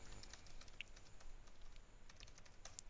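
Fingers type on a computer keyboard during account setup, a brief sparse patter of soft, close key clicks with no one talking.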